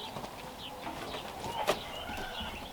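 Faint, high chirps of baby birds inside a birdhouse come in short scattered bursts over a steady outdoor hiss, with one slightly louder peep near the end.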